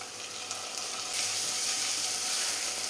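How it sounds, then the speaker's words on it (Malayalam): Chopped tomato sautéing in a pan for a white chickpea curry, a steady close sizzle and hiss that grows louder partway through. "ഇനി തക്കാളിയും കൂടെ നന്നായി തന്നെ ഒന്ന് വഴറ്റിയെടുക്കണം."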